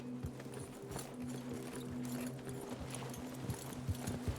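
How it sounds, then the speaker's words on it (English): Horses trot in a video game, with a quiet, steady clip-clop of hooves over a low tonal hum, and no one speaking. "Get your horses ready."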